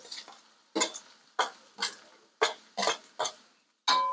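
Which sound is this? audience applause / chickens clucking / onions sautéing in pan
onions sautéing in pan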